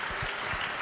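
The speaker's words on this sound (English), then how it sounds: "Yes, please applaud for that." Audience applause at a live press event after a Blue Origin spaceflight, a brief, steady burst of dense clapping with no gaps.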